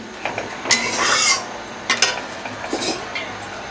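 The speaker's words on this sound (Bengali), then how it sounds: "এখন একটু নাড়াচাড়া দেবে" Curry with tomatoes stirred in a pan with a spoon, scraping and clinking metal sounds in short bursts, close up with no talking.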